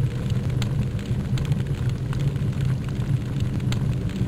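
Fire burns in the 1997 game Shadow Warrior, a steady dense roar with low rumble and faint crackle, continuous and fairly loud with no voices.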